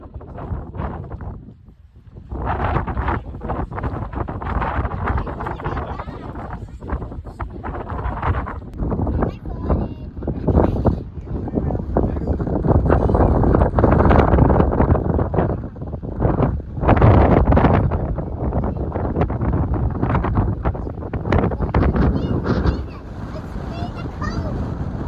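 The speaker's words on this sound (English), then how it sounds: "is it windy." Strong gusting wind at the mountain summit of Cannon Mountain in Franconia Notch buffets the microphone with loud, rumbling roars that swell and ease continuously over about twenty-five seconds.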